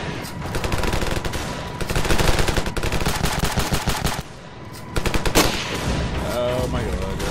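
Full-auto DMR rifle fire in Ravenfield: loud, rapid bursts of automatic shots with a short pause before fire resumes, with a voice talking over parts of it.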